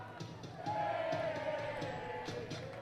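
Baseball crowd at Welland Stadium booing and jeering an ejected player during a Welland Jackfish versus London Majors game, a sustained wash of mixed voices and yells swelling after the first half-second and holding steady.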